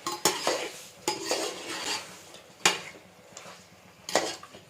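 Mutton pieces being stirred with turmeric and salt in a metal pot, a utensil scraping and clanking against the sides in several sharp, close knocks between softer mixing scrapes, with no talking.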